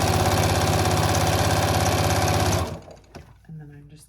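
A sewing machine back stitches fleece for a qaspeq, a loud steady rapid motor-and-needle whir that runs close up for over two seconds, then stops, leaving soft handling noises and a brief voice.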